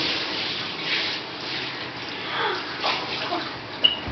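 Water pours and splashes steadily over a shiny white suit outdoors, a continuous rushing wash with a brief sharp spike near the end and no talking.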